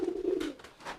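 A domestic pigeon gives a short, low, close coo that fades into soft rustling, followed by a faint breathy sound.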